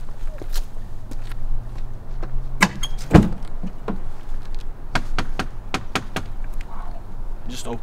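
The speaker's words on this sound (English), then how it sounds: "While I was knocking at the door, the wood is like really soft." Several knocks on a soft old wooden door of an abandoned house, dull scattered thuds with one louder blow near the middle, set against outdoor background noise.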